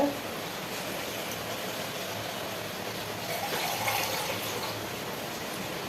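A steady, soft rush of water pouring into a pot for biryani, continuous and fairly close, with no talking.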